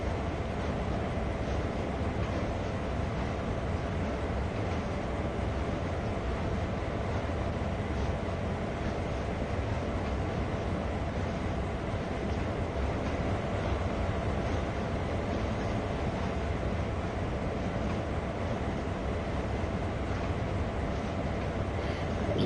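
A train runs steadily through the Sand Patch Grade route in Train Sim World 2 on PS5, a continuous loud rumble and rolling roar with no break for the whole stretch.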